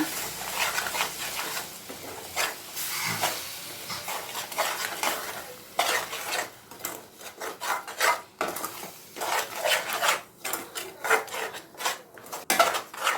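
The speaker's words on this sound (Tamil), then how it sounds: "இப்போ முட்டை சேர்த்ததும் இது நல்லா கலந்து விட்டுக்கோங்க" A spatula stirring and scraping egg around a pan while frying egg podimas, producing rapid rasping strokes and clicks against the metal over a low sizzle, close-up, with the scraping turning faster and more choppy toward the end and no speech.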